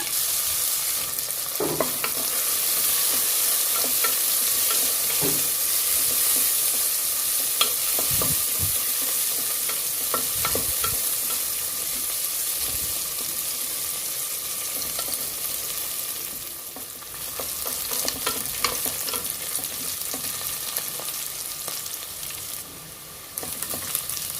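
Onions and chopped green chilies fry in a pan for tomato pulao, a continuous close sizzle with repeated scraping strokes of a spoon stirring through the oil.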